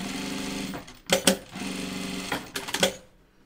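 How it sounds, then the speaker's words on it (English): A sewing machine stitches along the hem of a fabric face mask, running in a steady mechanical whir with a few louder clattering bursts as it stops and restarts, close and with no talking. "You want to sew all the way up to that edge."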